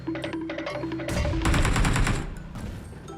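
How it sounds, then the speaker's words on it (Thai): Gunfire in PUBG Mobile, a fast burst of automatic weapon shots followed by a heavier roaring blast, loud and close with game background noise. "เราก็จะถึงอีเวนต์ละยิงกันเดือดเลยตรงนี้"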